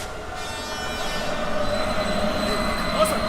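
A train rolls along the tracks in the horror game Hollow Cocoon, a steady loud rumble with high squealing wheels that continues throughout.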